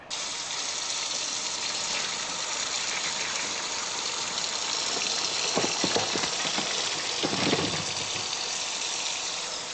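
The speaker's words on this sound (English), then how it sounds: "I was just running in the sink." Steady rushing of water from a tap into a kitchen sink, continuous and fairly loud, with a few brief splashes and clinks midway.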